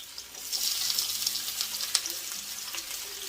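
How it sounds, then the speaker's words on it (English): Potatoes and onions fry in hot grease with a steady hiss that swells after a quiet start, broken by crackles and one sharp pop partway through. "if the grease is hot enough, you can fry potatoes and onions"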